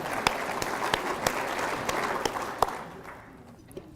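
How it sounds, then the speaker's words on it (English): An audience claps in a dense burst of applause with a few sharp louder claps standing out, fading toward the end. "Give yourself a big round of applause."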